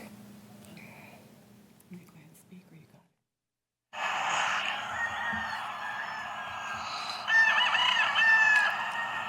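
Many roosters from a compound housing over 200 birds crow close by and overlap continuously, loud and dense, after a brief quieter stretch with a low hum and a moment of silence.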